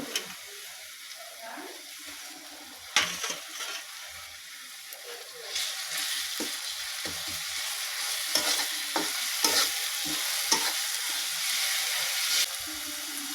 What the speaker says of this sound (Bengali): এখন এতে আমি দিয়ে দেব আদা রসুন বাটা